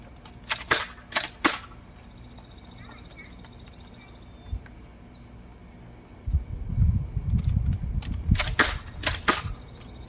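A Nerf Split Strike blaster fires all its darts at once: a sharp burst of pops, then rattling and clicking, and later another cluster of loud snaps, all close and under light background noise.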